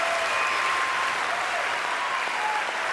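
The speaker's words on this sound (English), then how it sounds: "Applause." Tennis crowd applauding at the US Open quarterfinal, a full stadium's steady clapping that stays loud and even throughout, with a commentator's voice faintly over it.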